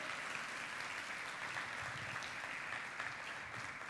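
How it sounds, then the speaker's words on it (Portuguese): A church congregation applauds for mothers at a Mother's Day service, a steady, dense wash of clapping from many hands that fills the room without pause. "quero mais um aplauso bem forte às nossas mães."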